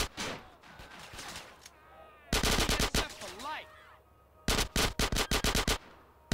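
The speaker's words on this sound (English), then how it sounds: "So many people shooting at me." Enemy gunfire in GTA San Andreas, loud rapid bursts of automatic shots in two clusters separated by quieter game ambience, with someone talking at the start.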